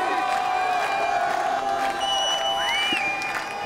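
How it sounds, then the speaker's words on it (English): Crowd at a BMX spine final in Montpellier cheering and whooping for rider Nick Bruce, a loud continuous roar with shouts and whistles throughout. "The crowd is getting louder for Mr. Nick Bruce."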